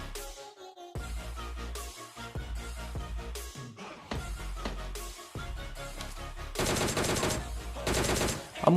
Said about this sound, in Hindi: तो मैं यहाँ पे प्री फायर देता हूँ भाई इन झाड़ियों में